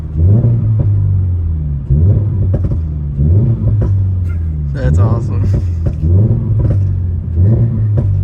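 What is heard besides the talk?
2024 Toyota GR86 with Borla S-Type exhaust revving and popping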